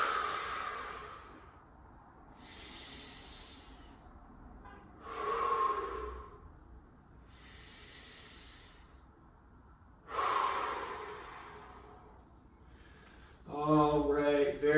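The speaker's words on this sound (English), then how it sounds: "we'll finish it out strong with 3 deep breaths" Three slow, deep breaths at the close of a yoga exercise, each a long airy inhale and exhale spaced evenly apart, near and alone in a quiet room, with a brief voice at the end.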